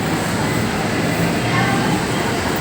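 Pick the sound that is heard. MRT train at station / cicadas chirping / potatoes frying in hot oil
MRT train at station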